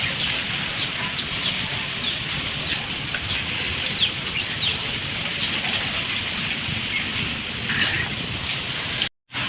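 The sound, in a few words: rain falling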